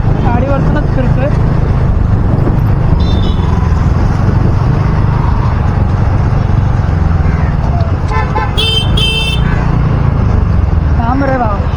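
Riding through busy road traffic on a vehicle: a constant engine and road rumble fills the scene, with scattered horn toots and honks nearby, while people talk over the noise.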